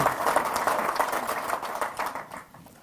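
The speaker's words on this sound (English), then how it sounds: "could I ask you to give them a round of applause for their hard work" An audience at an opening address claps in a round of applause that starts full and fades toward the end, heard at moderate distance.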